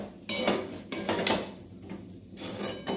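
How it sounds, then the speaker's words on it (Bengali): A metal spatula scrapes and clatters in a pan as leftover cold rice is fried in oil with chopped onion and chili, in several bursts of close scraping with no talk. "সেই ভাতগুলো আমি একটু পেঁয়াজ কুচি লঙ্কা কুচি করে একটু তেল দিয়ে ভেজে নিচ্ছি"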